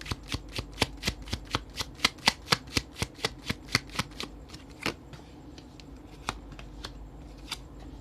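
Tarot cards being shuffled by hand in a quiet room, a fast run of crisp riffling snaps that thins toward the end into a few scattered flicks, close and clear with no talking.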